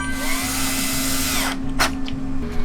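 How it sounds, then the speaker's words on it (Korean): An electric drill drives screws into fireplace cabinet panels, whirring in one sustained burst that winds down, followed by a couple of short clicks and bumps. "구성품으로 되어 있는 피스를 이용해서 피스 구멍에 맞춰 넣은 다음에 전동 드릴로 고정을 해주시면"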